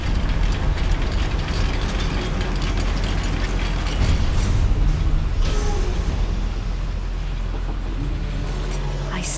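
Goblin mine lift mechanism in Hogwarts Legacy, a continuous loud grinding, rumbling drone of gears and ratcheting machinery running steadily throughout, with faint spell effects and a voice briefly over it.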